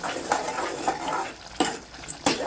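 Garam masala is stirred into meat frying in a pan for boti fry, with a soft steady sizzle and a few sharp scrapes and clinks of a spoon against the pan, close and without speech.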